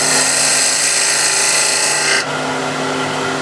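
A spindle gouge cuts a rim into spinning wood on a lathe, a loud continuous bright shearing hiss with a steady motor hum beneath, ending abruptly as the tool lifts off while the whine carries on.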